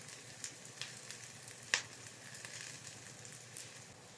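Chicken liver browning in a pan for adobo, giving a steady, quiet sizzle with a few small pops and one sharper crackle partway through.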